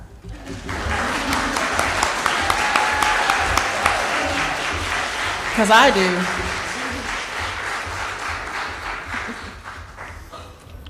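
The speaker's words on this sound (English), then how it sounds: "I know you want to clap" A church congregation applauds in a steady, sustained wash of clapping that swells and holds for several seconds, while a voice briefly speaks over it.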